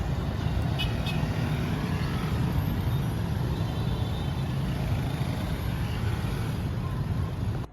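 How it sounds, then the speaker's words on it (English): Dense street traffic in Saigon, Vietnam, with a continuous close rumble of cars, trucks and engines that stays loud and unbroken. "Traffic here is pretty wicked."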